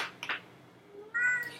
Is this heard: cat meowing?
yes